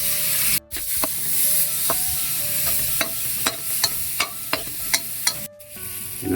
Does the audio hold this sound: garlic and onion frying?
yes